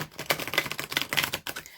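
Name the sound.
shuffling tarot cards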